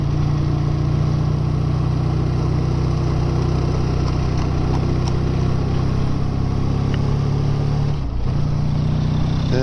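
A BSA A10 650 motorcycle engine runs steadily and loudly at low road speed, its deep throbbing drone continuous throughout, with a brief dip in the note near the end as the gear drops down.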